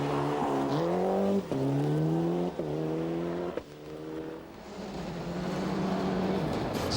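Tommi Mäkinen's rally car at Rally Sweden roars loudly through several gear changes, the engine climbing and dropping in pitch before a short lift and a quieter, broader engine note.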